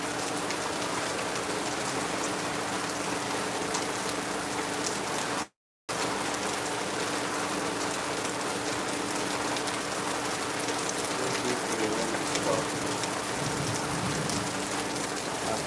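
A steady downpour in Lagos keeps up a loud, uniform roar of heavy rain, broken by one brief moment of silence near the middle.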